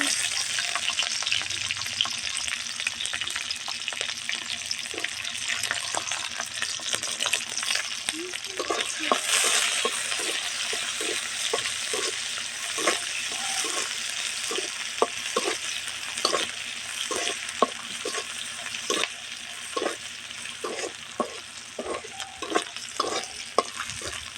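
Chopped onion and green chili fry in oil in a wok, a continuous bright sizzle broken by a quick, steady run of clicking spatula strokes that grow more frequent toward the end.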